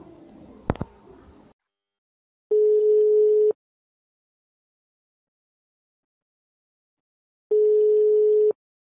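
Telephone tone during a call placed to a union office: two steady, loud one-second beeps about five seconds apart, following a brief burst of noise at the start.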